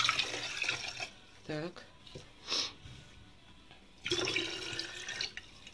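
Water poured from a glass back into a pitcher at home, heard as several close splashing pours in short bursts with quiet gaps between them, plus a brief spoken word.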